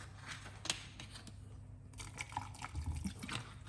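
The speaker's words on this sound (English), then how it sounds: "Get a little bit more water, add on this one." Water poured into a homemade detox recipe in a kitchen, heard as soft, faint trickling and dripping with small splashes and clinks, close by and quiet, with no talking.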